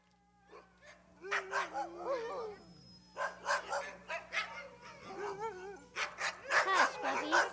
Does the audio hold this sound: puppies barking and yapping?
yes